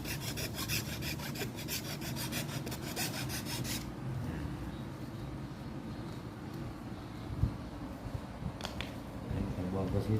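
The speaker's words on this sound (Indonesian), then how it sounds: "kita gosok untuk membuang bekas-bekas lem teman-teman" Old glue residue being scrubbed off by rubbing at the center spar while removing a kite's lower wing, a steady scratchy rasp close by, brisk and rhythmic at first, then softer, with someone speaking throughout.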